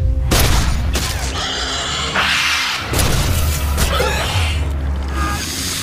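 Bursts of loud gunfire and booming impacts in a dramatic scene, with rumbling low effects between volleys.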